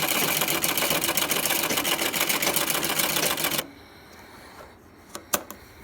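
Sewing machine stitching sofa fabric during upholstery repair, running fast and steady at close range for about three and a half seconds, then stopping, followed by a few faint clicks and taps.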